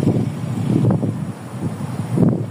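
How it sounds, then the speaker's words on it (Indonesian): Strong wind buffets the microphone in rumbling gusts, rising and falling over a few seconds. "Anginnya kenceng banget."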